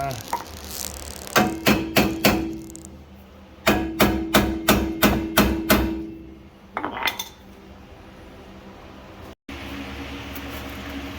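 Two quick bursts of rapid metallic hammer blows on a rear wheel bearing of a 2015-2021 Honda Civic ring out close by, several strikes each, followed by scraping and clattering workshop noise.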